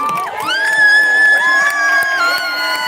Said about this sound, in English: let's have a bigger round of applause for all the young people and the Palestinians and the activists who are coming up